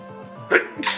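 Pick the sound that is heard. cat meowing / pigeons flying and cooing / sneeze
sneeze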